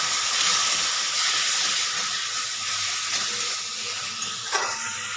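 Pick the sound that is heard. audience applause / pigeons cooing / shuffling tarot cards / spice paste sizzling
spice paste sizzling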